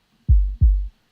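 Two punchy synthesized trap kick drum hits with a deep thump and quick decay, evenly spaced and alone.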